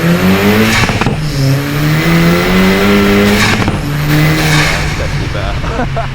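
A 450hp VW Caddy with a swapped 2.0 TFSI engine accelerates hard with traction control on, loud rising revs climbing through gear changes, heard from inside with voices.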